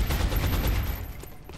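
Rapid bursts of gunfire from the XCOM Enemy Within video game, a sustained volley of shots with a loud, dense low rumble that stays steady throughout and tapers only slightly at the end.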